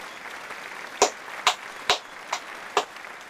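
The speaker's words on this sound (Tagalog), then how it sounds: "Bigyan nga ninyo ng 5 palakpak ang inyong mga sarili." Five sharp, separate hand claps ring out about half a second apart, close and clear, in a quiet room.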